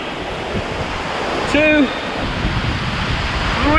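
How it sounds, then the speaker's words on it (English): Steady roar of waterfalls in Bali, a constant broadband rush of falling water close by, with someone speaking briefly over it and a short whistling tone in the middle. "You can see 3 waterfalls."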